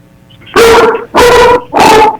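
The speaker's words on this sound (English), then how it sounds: "You got a dog in this one." A dog barks three times, loud and close, each bark a sustained, slightly tonal yelp in an indoor meeting room, with no talking over it.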